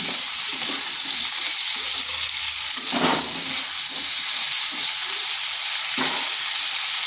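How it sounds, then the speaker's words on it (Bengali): Potatoes frying with a little salt in a pan alongside pointed gourd, a loud, continuous close sizzle with occasional stirring scrapes and no speech. "এখানে সামান্য একটু লবণ দেব আর আলুটাকেও একটু ভেজে নেব।"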